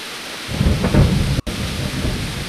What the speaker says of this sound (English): Beautiful thunder.